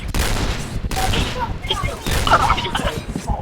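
Shotgun blasts from the Thai shooter game Point Blank during a clan war, a rapid run of heavy gunfire bursts mixed with booms, with a player talking over the shots throughout.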